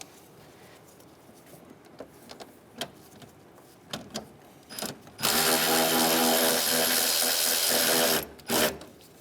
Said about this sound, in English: It's going to be a 10 millimeter bolt. We're going to take that bolt out first.